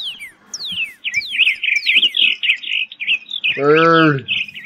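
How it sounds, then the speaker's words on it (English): Bird chirping in the MineBound video game: a rapid series of close, bright tweets and warbles, ending in a louder, buzzing, alarm-like call, with no talk. "Bird!"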